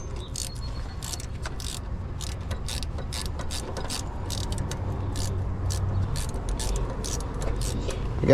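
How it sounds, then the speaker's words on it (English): A ratchet turns a 13 mm bolt on a 2015 Acura TLX, making a rapid, close series of clicking strokes in bursts over a low mechanical background. "We're just gonna have to unbolt it."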